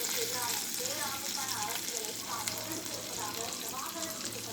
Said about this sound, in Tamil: பேனில் பட்டர் அண்ட் ஆயில் சேர்த்துக்கோங்க. சேர்த்து இந்த மாதிரி லைட்டாக ஃப்ரை பண்ணி விடுங்க.